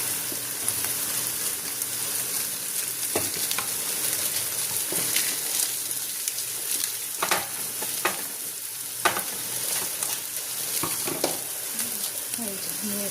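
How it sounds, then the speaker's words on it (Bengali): Spices with turmeric and garam masala fry and sizzle in a pan, a dense continuous hiss close by with occasional scraping stirs and clicks throughout. "তো এটাকে ভালো করে একটু ভেজে নেব"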